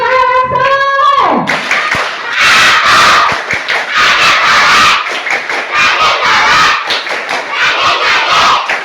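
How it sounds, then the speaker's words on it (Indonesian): Rhythmic group clapping and cheering from children and adults at a Ramadan gathering, loud and dense, starting after a short tonal sound and continuing with uneven bursts of claps and shouts. "tepuk tangan soleh"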